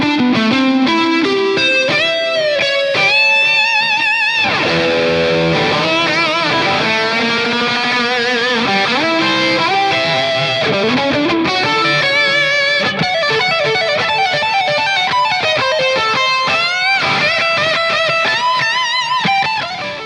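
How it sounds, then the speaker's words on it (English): Distorted electric guitar through a Fractal FX8 with stereo analog delay and plate reverb, playing chords and lead lines, echoing repeats and a lush reverb tail washing behind every note, loud and continuous. "I use a stereo analog delay and also the plate reverb on that"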